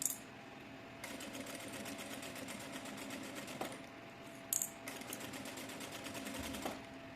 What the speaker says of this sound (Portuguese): Agora vamos passar a costura nas duas laterais